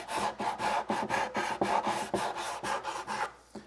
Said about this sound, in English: I also like to hold the sanding block at an angle